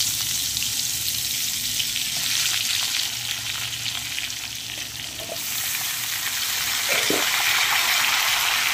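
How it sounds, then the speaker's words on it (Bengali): Green banana, potato and papaya fry in a pan with a loud, continuous sizzle, and a spoon occasionally scrapes and stirs. "দেখুন, সবজিগুলো মোটামুটি ভাজা ভাজা হয়ে গেছে।"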